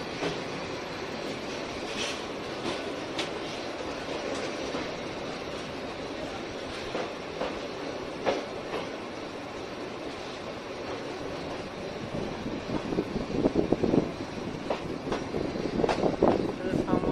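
Train rumble and rattling carriage clatter at Sunamganj station, a steady rolling noise with sporadic clanks that grows louder and busier toward the end, with faint voices mixed in.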